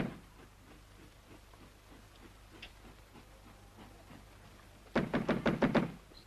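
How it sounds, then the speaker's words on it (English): Knocking on a door, a quick series of five or six loud raps near the end after quiet room tone with faint taps, no talk. "It's no use knocking."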